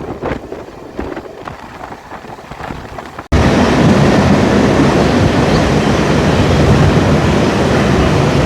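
A train runs toward Tarapith past tall palm trees and waterlogged monsoon fields, first as a quieter rhythmic clatter, then abruptly as a loud, continuous roar of wheels and carriages close by.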